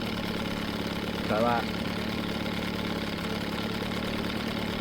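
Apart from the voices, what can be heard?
outboard motor idling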